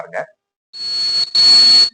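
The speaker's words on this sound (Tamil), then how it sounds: "இந்த 2 லைனை ஓட்டுனா ஃபஸ்ட்டு அலாரம் அடிக்கும்." Buzzer alarm of a PIR sensor circuit sounding in two loud, steady electronic bursts after a brief voice, with a short gap between them.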